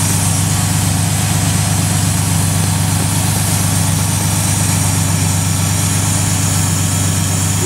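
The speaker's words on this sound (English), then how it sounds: "We do have a respectable idle." A 1986 Cadillac Cimarron engine idles after a tune-up, giving a steady, even, loud rumble with a smooth low throb that holds unchanged throughout, with no voices.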